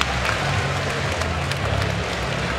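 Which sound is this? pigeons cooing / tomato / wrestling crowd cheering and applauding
wrestling crowd cheering and applauding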